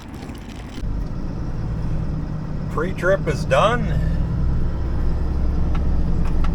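A Ryder box truck engine idles with a low, even rumble on a chilly early morning, running steadily throughout while someone speaks briefly over it.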